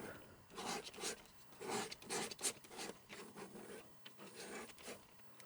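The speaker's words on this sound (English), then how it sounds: "maybe a palette knife works good with this here. I would scrape up some paint here" A palette knife scrapes oil paint on a palette while painting a simple seascape, making repeated close, gritty rasping strokes in an uneven rhythm, with no voices.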